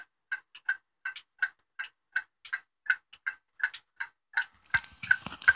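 Seth Thomas 89 clock movement with new bushings ticking in a steady, even rhythm, close and crisp, about a dozen ticks before some rustling handling noise creeps in at the end.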